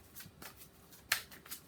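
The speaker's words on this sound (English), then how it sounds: "like I said, I just shuffle." Tarot cards are shuffled close by, a few soft riffles and flicks followed by one sharper snap of the deck.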